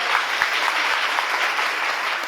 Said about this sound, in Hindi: ताली बजाओ जोर से एक बार।